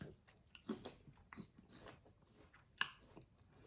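Crisp bites and chewing on a crunchy, tart Lady Apple, heard close and quiet, with a few sharp crunches separated by softer mastication and no talking.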